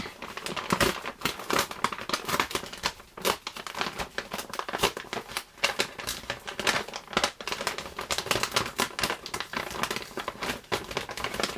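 Paper-taped bag from a needle-felting advent calendar being pulled open, with dense, continuous crinkling and tearing of paper and tape, close and fairly loud, no talking.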